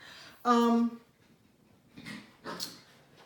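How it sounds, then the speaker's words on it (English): A single short dog whine or yelp, followed by two faint, brief rustling or growly sounds in a quiet room. "if you hear some growling and barking in the background"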